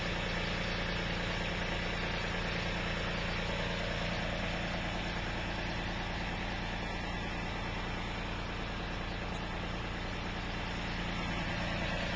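A small tractor engine idles steadily in deep snow after a heavy snowstorm, a continuous low mechanical drone with a faint knocking texture running unbroken and fairly quiet throughout.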